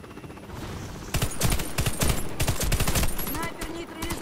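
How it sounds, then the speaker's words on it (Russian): Rapid bursts of machine-gun fire in a video-game battle with an incoming helicopter. Loud, dense volleys start after a quieter opening and continue with short gaps, with game ambience underneath. "К вам идет вертолет. Не дайте ему высадить десант."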